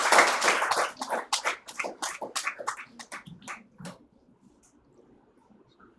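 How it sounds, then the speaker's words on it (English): Clapping from an audience at a nursing college convocation, loud and dense at first, then thinning into scattered claps that fade out near the end. "Please give a big clap."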